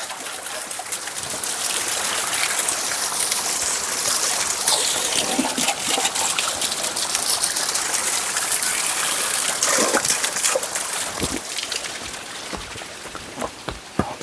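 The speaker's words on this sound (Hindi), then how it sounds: "पानी का स्रोत मिला है।" Mountain stream on the Tungnath trek, water rushing and gurgling loudly and steadily at close range, with a few brief voices in the background.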